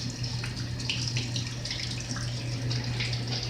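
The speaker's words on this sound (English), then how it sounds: "because this is just pouring water out all over the floor." Water pours out of an overflowing hot water heater onto the floor: steady splashing flow with a constant low hum, close and moderately loud, no talk.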